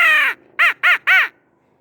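Crow call used for spring turkey hunting, blown in a gargling style that mimics mature crows fighting: one drawn-out harsh caw followed by three short, rapid, loud caws, close and alone.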